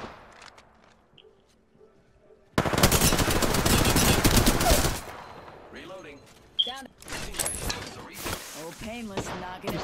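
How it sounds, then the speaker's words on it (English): Machine gun fire in a shooter video game: a loud sustained burst of rapid automatic shots for about two seconds, followed by quieter game sounds and a player's voice talking. "Opening fire on the enemy."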